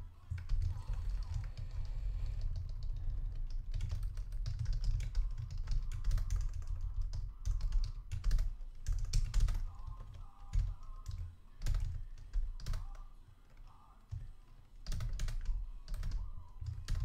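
Rapid typing on a computer keyboard during a coding session, a dense run of clicks and taps close up over a steady low hum, with brief pauses and bursts throughout.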